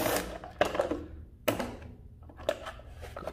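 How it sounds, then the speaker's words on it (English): A Milwaukee impact driver with a 5/16 nut socket backs out screws from the air filter cover of a Briggs 3.5HP engine. Four short, rattling bursts sound close by, separated by brief pauses. "I have my Milwaukee impact driver and a 5/16 nut set."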